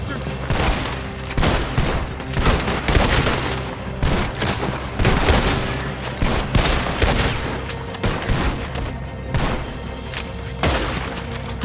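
Heavy gunfire in Red Dead Redemption 2, a dense, continuous exchange of many loud shots from several guns, irregular and overlapping throughout, with a voice talking briefly beneath the shooting.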